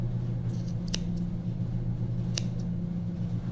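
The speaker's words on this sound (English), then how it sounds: "So you can grab your scissors and you just cut." Scissors snip a few quick, faint cuts at irregular intervals against a low steady background hum, with no talking.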